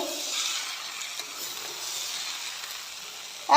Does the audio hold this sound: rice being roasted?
yes